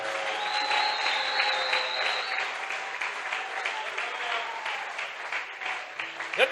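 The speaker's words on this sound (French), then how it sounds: "Est-ce que quelqu'un peut acclamer le Seigneur pour notre Père?" A church congregation claps and cheers in sustained applause for several seconds, a dense steady wash of hand claps filling the room with no one speaking over it.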